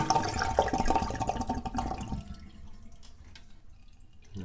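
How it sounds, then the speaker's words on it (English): Water rushes and drains from a toilet bowl as the handle is held down, a loud gurgling flush for about two seconds that then fades to a quieter trickle. "we want to flush the toilet. Just hold the handle down so all the water can drain out"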